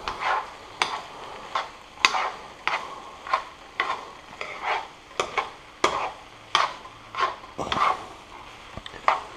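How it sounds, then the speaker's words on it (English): Bacon fried rice with soy sauce is stirred in a pan, a steady run of rhythmic scraping strokes about every half second, close and fairly loud with a light sizzle underneath and no talking. "Now we're just going to stir it and incorporate that uh, soy sauce into the rice"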